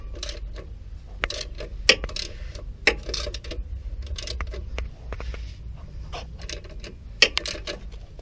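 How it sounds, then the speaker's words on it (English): Tightening the lower bolt on a Toyota Yaris alternator, with sharp metallic ratchet clicks in uneven bursts and a few louder clanks from the tool against the engine bay. "I'm going to tighten this bolt down."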